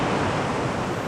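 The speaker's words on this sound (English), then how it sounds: "But first we got to cross the creek here." Creek water rushing during a creek crossing on a rockhounding hike, a steady broadband wash of flowing water, close and loud, with no voices.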